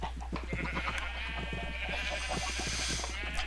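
Sheep in the video game Minecraft bleat in a short burst of repeated, close, layered cries over a low steady hum, with no talking.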